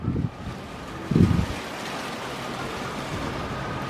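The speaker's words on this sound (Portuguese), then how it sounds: "Gente, então começou a chover." Steady rain falls outdoors as a broad, even hiss with a low rumble of wind-like noise, plus a couple of brief louder thumps near the start; no voices are heard.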